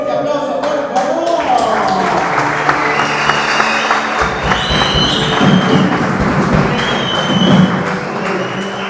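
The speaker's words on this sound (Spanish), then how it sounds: "Vamos a dar un fuerte aplauso, por favor." An audience at an evening church opening conference applauds loudly and steadily throughout, with thumps and taps mixed in and a voice talking over parts of it.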